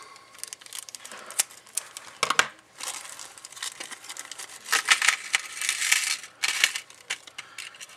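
Close crinkling and crunching of plastic electronics-part packaging comes in irregular bursts, with sharp scissor snips and rustles as it is cut and handled.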